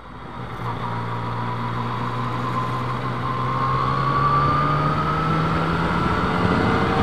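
A Yamaha MT-09 motorcycle engine rises steadily in pitch and loudness as it accelerates hard, a continuous rising mechanical whine and drone with wind noise, heard without talking.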